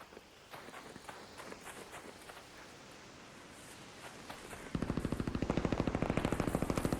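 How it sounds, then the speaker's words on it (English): Rapid automatic Torrente gunfire in the video game Arc Raiders, distant scattered shots at first, then a loud, sustained burst of fast regular shots close by for the last few seconds. "Someone's over here with a Torrente. Absolutely shredding lead."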